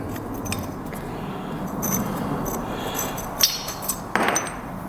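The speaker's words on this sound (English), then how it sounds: "we're gonna pull this pin out first, which means we're gonna remove this pin." Hammer tapping out a brake caliper pin on a car, a few sharp metallic taps and clinks, with louder strikes near the end, over quiet garage background and no talk.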